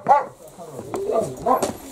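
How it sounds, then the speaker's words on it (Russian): Small dog giving a few short barks and yips at a country house, fairly close, with people talking over and between the barks. "Иди посмотри собачку."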